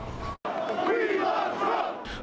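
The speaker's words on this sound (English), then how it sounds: "Former President Trump was greeted with a patriotic chant and applause early Thursday morning" A crowd at a Midtown construction site chants in unison and cheers, a loud rhythmic group voice rising and falling for about two seconds with a brief cut partway through.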